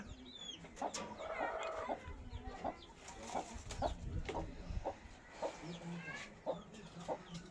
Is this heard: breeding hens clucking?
yes